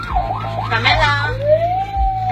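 An ambulance siren wails in a rising and falling sweep, then settles into a steady tone, loud over a low engine rumble.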